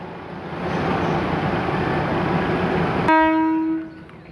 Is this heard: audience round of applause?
no